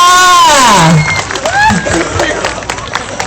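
Audience clapping and crowd noise rise at a comedic beauty pageant at a Thai food fair, following a woman's loud announcement, applause continuing in scattered bursts to the end.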